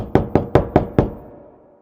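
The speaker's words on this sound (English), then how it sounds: "knocked on the door" Five firm knocks on a wooden door in a steady, quick rhythm, close and clear, with a short fading ring afterward.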